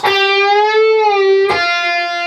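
An electric guitar note bends up, holds, releases back down, then a quick pull-off drops to a lower ringing note, clear and sustained.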